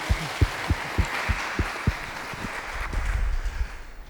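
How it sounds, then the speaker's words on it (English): An audience at a youth conference gives a round of applause, scattered distinct claps at first that thicken into a broader, softer wash of clapping toward the end. "big round of applause to Ross for asking"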